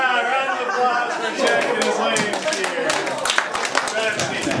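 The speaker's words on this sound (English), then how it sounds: "Round of applause for" Audience applause at a live comedy show, a broad wash of clapping mixed with crowd chatter that swells partway through and holds steady, with a few sharper individual claps near the end.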